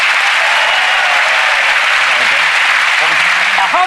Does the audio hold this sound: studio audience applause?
yes